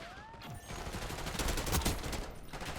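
Rapid AK-74 gunfire from a video game rattles at moderate distance, with dense overlapping shots swelling in the middle and staying fairly quiet overall.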